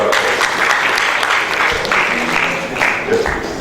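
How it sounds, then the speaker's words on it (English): Steady, loud audience applause fills a lecture hall at a geography alumni lecture and award ceremony, a dense continuous clatter of many hands with no break. "So let's give him a round of applause."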